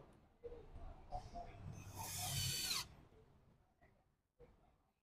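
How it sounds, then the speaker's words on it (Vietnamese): An Edon AD18C cordless drill set to drill mode drives a wood screw with a single short whirring run lasting about two seconds. Light handling noise comes before and after it. "Hai chức năng thì anh em chỉnh cho em chức năng khoan nha"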